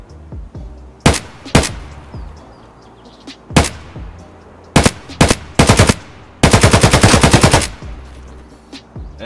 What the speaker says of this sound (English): This is how the AKM sounds like.